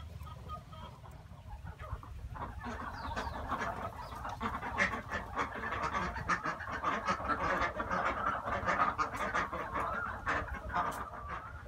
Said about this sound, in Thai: เป็ดพันปากน้ำนะครับ